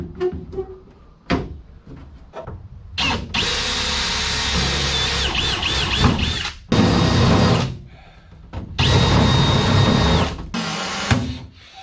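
Power drill boring into an aluminum track on a 14-foot Smoker Craft V-hull boat for riveting, loud close bursts revving in several long runs separated by short pauses and clanks, with no talking.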